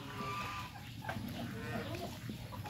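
Chickens cluck and murmur on a farm with geese, ducks, pigs and cows nearby, a busy low barnyard chatter with a faint voice in the background.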